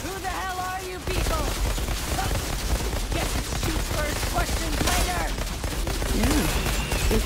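Gunfire in the shooter game Outriders breaks out after a short pause into dense, rapid bursts of shots layered with game effects, loud and continuous, with voices speaking over the action.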